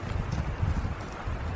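Donkeys walking along, their hooves making a steady, uneven clip-clop on the ground, fairly close and continuous, with some wind-like rumble underneath and no talk.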